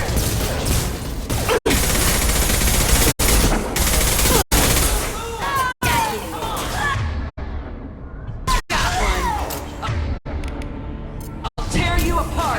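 Gunfire in the video game Mass Effect 2, loud sustained automatic bursts and crashing impacts broken by brief pauses, with voices calling out under the shooting.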